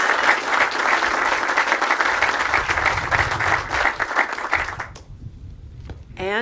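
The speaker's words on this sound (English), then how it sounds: "Let's give that a round of applause, because that is the headline." An audience at a green jobs announcement in Genesee County breaks into sustained, dense clapping that dies down near the end, followed by a brief quiet moment.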